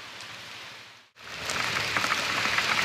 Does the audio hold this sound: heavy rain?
yes